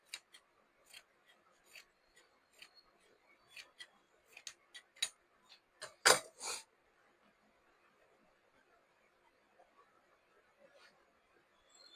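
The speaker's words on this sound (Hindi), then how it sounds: "उसके बाद जो इसका एक्स्ट्रा कपड़ा जो है वो काट करके निकाल लेंगे।" Scissors snipping through surplus shirt fabric during tailoring, a run of short crisp cuts spaced irregularly, with one louder, longer cut midway, close and alone with no talk.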